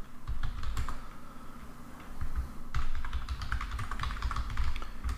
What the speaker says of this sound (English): then I would type your company name